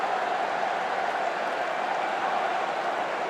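Football crowd at a Bolton Wanderers match roaring after a goal, a steady dense wash of cheering and applause held at even loudness throughout.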